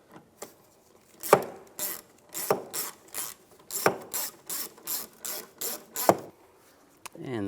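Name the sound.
driving screw into Cadillac Escalade tail light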